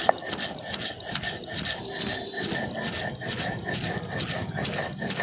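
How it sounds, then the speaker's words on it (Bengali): Steady rhythmic grinding of soaked mustard seeds, green and dry chillies and a pinch of salt on a stone slab, a continuous rasping scrape with regular back-and-forth strokes, close and loud, alone without talk. "শিলের মধ্যে নিয়েছি ধুয়ে রাখা সর্ষে, দুটো কাঁচা লঙ্কা, একটা শুকনো লঙ্কা, এর সাথে একটুখানি নুন দিয়ে আমি বেটে নিচ্ছি"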